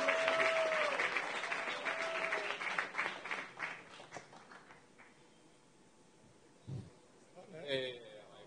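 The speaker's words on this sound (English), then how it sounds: "Another round of applause for the winner." Audience applause for a winner at a crypto summit, with loud clapping during the first four seconds that fades out. A voice and some scattered noises follow.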